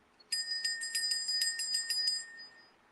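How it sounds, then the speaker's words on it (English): A bell struck in a rapid run of about a dozen bright metallic rings, close and clear, then the final tone fades out in a quiet room. "ring a bell"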